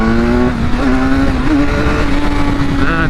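A 2016 BMW S1000R naked bike with a BT Moto ECU flash tune pulls hard in second gear, its engine loud and close with a strained, high-revving wail climbing steadily throughout.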